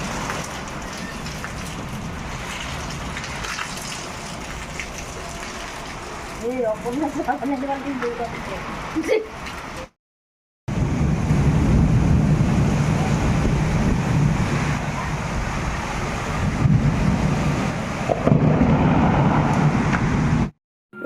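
A Kalbaishakhi storm, the first of the Bengali year, brings wind and rain. Gusting wind and rain make a dense, steady roar close to the microphone, with a brief dropout midway and faint voices under it.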